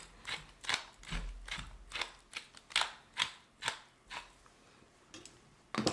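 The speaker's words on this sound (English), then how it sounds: "And then let's do some freshly ground black pepper." A pepper mill grinds black pepper in a steady series of about a dozen crisp, ratcheting crunches. The grinding is close but quiet, with no voices.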